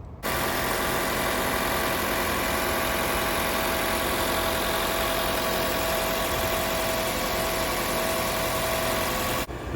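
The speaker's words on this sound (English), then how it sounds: "That, my friends, is the sound of a very clear and crisp hybrid 4-cylinder powertrain system" A Toyota RAV4 Hybrid's 4-cylinder engine runs at a steady idle, a loud even hum with constant vibration, close up and with no talking.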